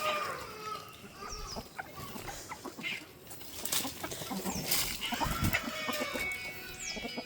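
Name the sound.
native chickens clucking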